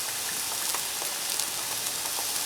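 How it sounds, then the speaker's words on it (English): Steady sizzling of pre-made Boboli pizza dough browning on a hot Blackstone griddle, an even, close frying hiss with scattered faint crackles and no talking. "Then I'll go ahead and actually brown up the dough, the pizza dough."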